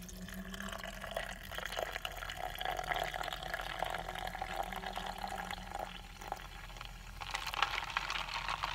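Leftover Starbucks iced drink is poured out in a continuous, faint trickle and splash of liquid that runs for several seconds with no talking.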